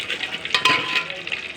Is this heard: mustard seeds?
yes